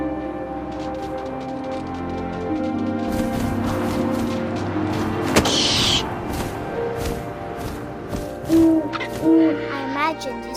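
An owl hoots in the video game What Remains of Edith Finch, a few soft, low calls near the end over a rustling ambient game soundscape with a quiet musical bed.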